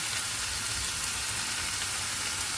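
Chopped tomato sautéing with salt in a hot pan for a biryani, giving a dense, even hiss of sizzling that is close and continuous, with no talking.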